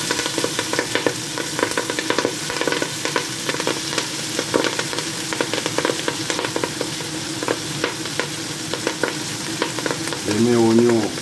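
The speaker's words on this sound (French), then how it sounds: "Maintenant, je vais faire revenir les légumes." Vegetables sauté in a pan with a loud, continuous crackle, broken by frequent clicks and scrapes of stirring, and a brief voice at the very end.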